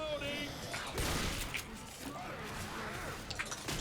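Gunfire rattles against a zombie horde in the Left 4 Dead 2 campaign The Sacrifice, bursts of shots with crashes and mechanical clatter scattered across the stretch, mixed with game noise at moderate level.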